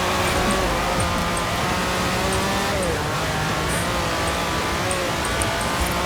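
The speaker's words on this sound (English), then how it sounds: "Just racing in a upgraded Countach" Upgraded Lamborghini Countach engine racing on snow in Forza Horizon 4, a steady loud droning roar with shifting harmonic whine throughout, no pauses.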